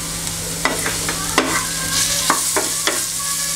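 A spoon stirs mango launji with turmeric powder and salt in a pan, giving several close, irregular metallic scrapes and clinks over a soft steady sizzle, with no talking.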